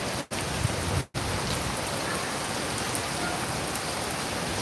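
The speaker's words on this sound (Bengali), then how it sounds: "আজকে আবারও বৃষ্টি" Steady, dense rain pours down nearby, a broad unbroken hiss of drops on surfaces, interrupted only by two brief cuts in the sound near the start.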